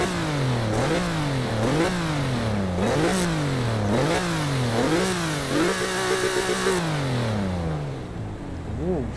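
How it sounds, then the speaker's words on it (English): A Jeep Gladiator Rubicon engine in the video game Forza Horizon 4 revs repeatedly in rising and falling surges, then settles into a steady idle before cutting off near the end. "we're gonna hear the noise made by the engine"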